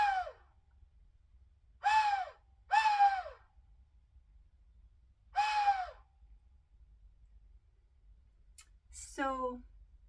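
A small owl-shaped whistle blown in four short, separate hoots, each a descending whistled tone, followed by a quick warbling chirp near the end, all clear and close against a faint low background hum.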